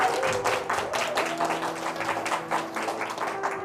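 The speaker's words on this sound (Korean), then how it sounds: "여러분 박수 한번 주세요." A church youth-service congregation applauds with rhythmic, fairly close clapping in uneven bursts, over a faint sustained musical tone underneath.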